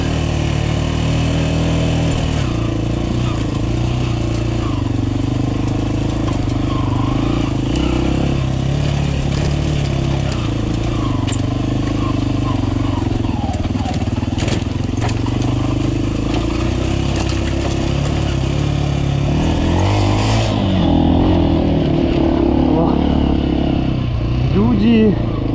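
A Minsk X250 motorcycle, ridden by a rider in a green jacket, runs on a race track with a constant loud engine drone that rises and falls through throttle changes, with someone talking over it.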